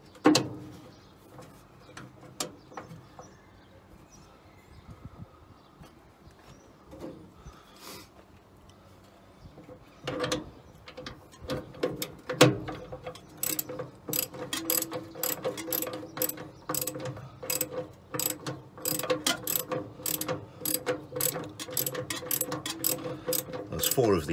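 Fast ratchet clicks come in quick bursts as radiator bolts are backed out of a 1968 Dodge Charger, close and crisp, growing busier in the second half after a quieter stretch of faint handling noise.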